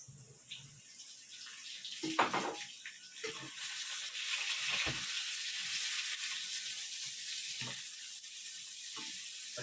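Chopped onion goes into a hot frying pan, giving a steady sizzle with a few sharper crackles and clatters near the start, quiet and close, without talk.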